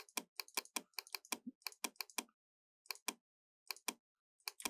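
Computer keyboard keys are pressed in quick bursts of sharp, close clicks, clustered in fast runs separated by short pauses, with no talking.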